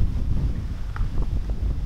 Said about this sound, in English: It's just a good opportunity to test the wind noise of this setup.